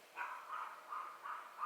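A dog barks repeatedly in the distance, four or five faint, evenly spaced barks in a steady rhythm, with no voices heard.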